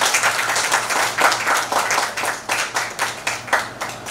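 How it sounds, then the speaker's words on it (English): Applause from a small audience at a film-festival press conference in Mumbai, a thin patter of scattered hand clapping with soft rhythmic peaks, fairly close and steady with no voices over it. "A big round of applause, ma'am."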